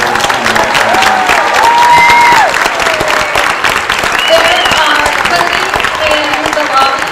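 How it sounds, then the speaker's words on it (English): Sustained applause and cheering from a full audience at a senior celebration for the class of 2021, loud and continuous, with scattered voices calling out over the clapping throughout. "Let's join me in honoring the class of 2021 with one final round of applause"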